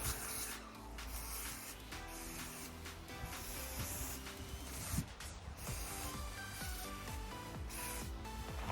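Colour dye sprayed onto a racing pigeon, a steady close hiss of spraying running throughout under a dense layer of background noise, with no talking.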